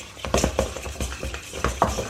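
Chicken pieces being tossed with spice and black pepper seasoning, giving soft, irregular stirring and scraping with a few light clinks of utensil against a bowl, close by and moderately quiet with no voices.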